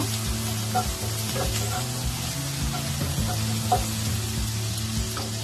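Turmeric and a little sugar frying in a pan for Bengali mustard rohu fish, a steady soft sizzle with faint stirring scrapes throughout.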